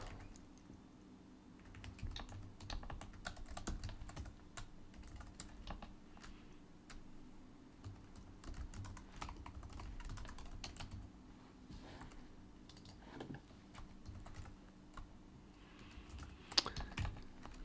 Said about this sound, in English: I could just continue typing